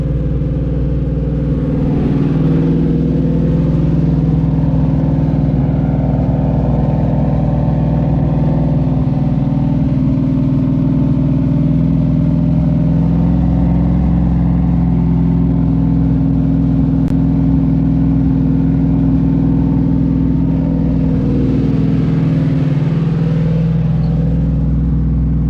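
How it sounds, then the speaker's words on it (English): A car engine revs outside, a loud, continuous low rumble that swells and eases in long surges, heard steadily from nearby without talk. "This fool out here revving this motherfucker like nobody's business."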